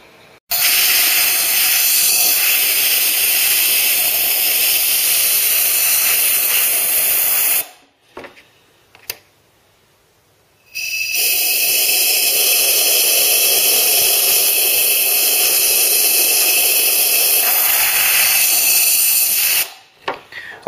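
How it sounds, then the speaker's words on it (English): Compressed air nozzle blasting dirt off parts of a Ford Cortina Mk3 under restoration, a loud, close, broadband hiss in two long sustained bursts separated by a brief quiet pause with faint clicks. "Okay, I'm going to carry on with the air nozzle."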